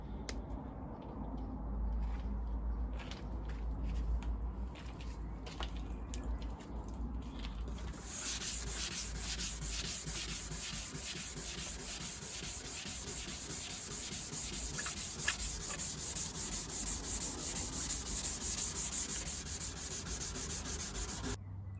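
Steady back-and-forth scrubbing of 400 grit sandpaper on a Renault Clio headlight lens, a continuous close rasp that turns brighter and more rhythmic partway through, with no talking.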